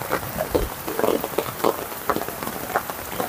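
Rain falls steadily on surfaces outdoors, a dense pattering wash with scattered louder drops, moderately loud and continuous with no talk.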